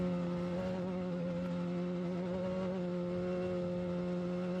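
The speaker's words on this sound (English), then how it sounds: "This is side-by-side here. Sounds a little different." A side-by-side off-road vehicle races through the desert in a Vegas-to-Reno off-road race, its engine a steady buzzing drone with a sustained whine throughout, fairly distant and unbroken.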